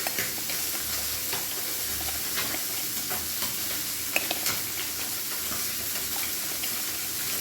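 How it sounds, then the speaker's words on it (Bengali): A spoon works ground spice powder into water in a small bowl for a tangra fish curry with kalo jeere and green chillies, making a soft, steady wet stirring and scraping sound close by, with faint sizzle in the background. "এই গুঁড়ো মশলাটা জল দিয়ে আমি মিশিয়ে নিচ্ছি।"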